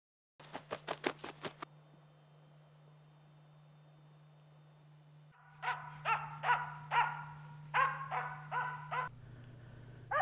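A Finnish Spitz hunting dog barks at a bird outdoors, first a quick run of sharp barks, then after a pause a louder series of spaced, ringing barks in a rhythmic pattern.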